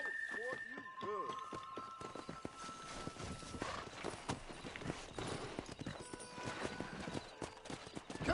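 Horses gallop in Red Dead Redemption, a fast rhythmic clip-clop of several hooves with a whinny early on, under game music and ambient noise.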